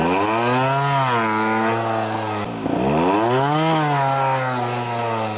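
A chainsaw engine revved to about 75% throttle, its pitch rising into a loud, steady whine, briefly dropping to idle, then climbing back up and holding.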